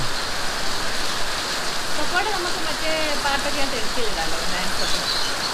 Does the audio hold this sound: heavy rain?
yes